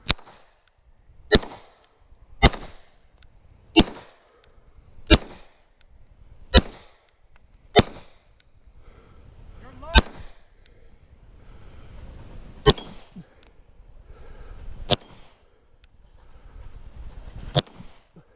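A series of about eleven sharp, loud gunshots rings out on a practical shooting stage at the Finnish Brutality 2021 match, stage 8. The cracks come at uneven intervals, with a low rumble between them.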